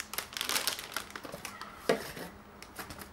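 Soft crinkling and rustling of thin antistatic packaging paper wrapped around a computer motherboard, a series of quiet crackles and crumples handled up close.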